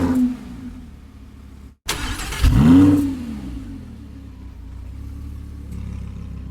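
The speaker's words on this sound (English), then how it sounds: "Different engine noises" A car engine cranks and fires up, then revs hard in one loud rising-and-falling roar before settling into a steady low idle.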